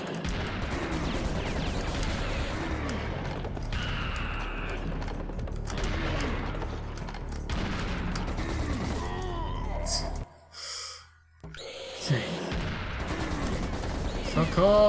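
Gunfire in the video game Serious Sam, rapid bursts of shots and heavy impacts over a dense battle din, with a voice shouting over it and a short lull near the end.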